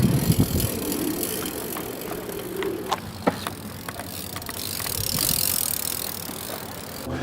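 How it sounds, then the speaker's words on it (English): A BMX bike ridden in a manual in Denver, Colorado, gives a close, rolling tire rumble with scattered sharp clicks and rattles from the frame and chain. A smoother whoosh of motion swells toward the end. "I'm going to teach you how to manual a BMX bike and a 26-inch bike."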